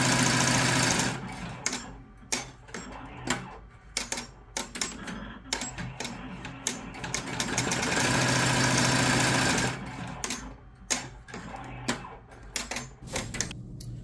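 An embroidery machine runs at its slowest speed of 300 stitches per minute while decorating a hoodie sleeve, giving a steady mechanical clatter of rapid needle strokes with irregular louder knocks throughout.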